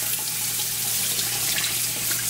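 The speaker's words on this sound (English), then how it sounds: "I always parboil mine with some vinegar, and I pour that water off" Vinegar parboiling water poured off oxtails into a kitchen sink, a steady rushing splash of running water throughout, close and fairly loud with no talk.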